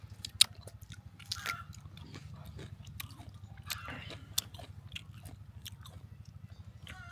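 Crisp bites and steady chewing of jujube fruit (boroi), eaten with salt outdoors, repeat close and clear, with sharp crunches mixed into a continuous low hum and no talk.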